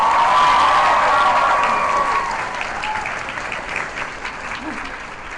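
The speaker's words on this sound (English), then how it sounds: "Let's just hear some damn applause, people." A convention crowd at an anime expo claps and cheers loudly, with whoops riding over dense applause that slowly fades over about five seconds.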